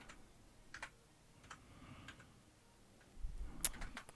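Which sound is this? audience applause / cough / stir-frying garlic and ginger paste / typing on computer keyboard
typing on computer keyboard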